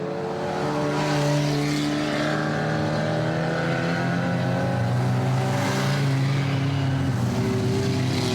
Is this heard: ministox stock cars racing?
yes